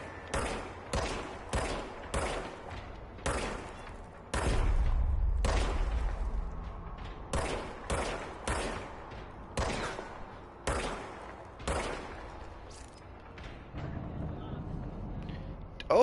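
Single shots from the service weapon in the Control video game ring out one after another at a steady, spaced rhythm, each sharp crack trailing off, with a brief louder low rumble partway through and no talking.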